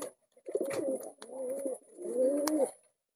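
Pet pigeons kept indoors coo in three soft, throaty phrases, close by and clear against a quiet room.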